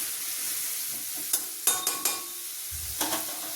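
Long beans and carrots frying on a high flame, a constant loud sizzle broken by a few sharp spatula scrapes and knocks against the pan.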